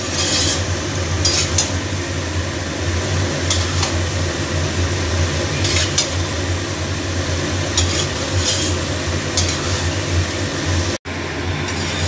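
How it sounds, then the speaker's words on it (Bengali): Chicken is stirred into gravy in a pan under a steady hum, with occasional soft scraping strokes of a utensil against the pan and no talking. "এবার ভালো করে গ্রেভিটার সাথে ভালো করে চিকেনগুলোকে মিশিয়ে নিতে হবে। সেই মেশানোটাই এখন চলছে।"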